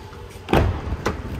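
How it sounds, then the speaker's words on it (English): Rear passenger door of a Nissan Murano being opened: a single solid latch clunk followed moments later by a lighter second thump, close and fairly loud. "in the back seat, door opens up nice and wide"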